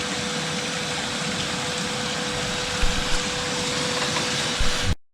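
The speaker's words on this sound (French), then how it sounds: "Un aspirateur." A pond vacuum cleaner runs while a garden pond is being cleaned, producing a steady droning motor hum with a faint tonal whine and occasional thumps, close and constant until it cuts off abruptly at the end.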